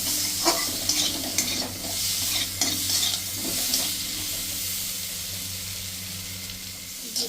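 Spices sautéing in a little oil for a koi fish curry, with steady sizzling and repeated scraping stirs of a spoon against the pan, close and continuous with no talking.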